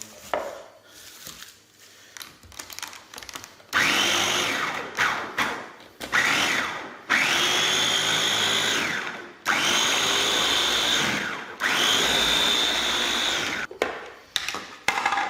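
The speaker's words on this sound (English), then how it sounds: "Okay, so look at that, it's all blended up nicely." A blender whirs in repeated loud bursts while blending neem leaves, its motor pitch rising as it spins up, each run stopping before the next starts.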